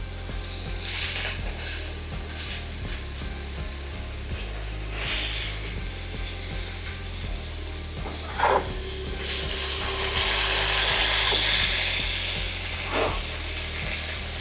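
Food fries in hot oil in an old cast iron skillet, a steady close sizzle and hiss that swells louder toward the end.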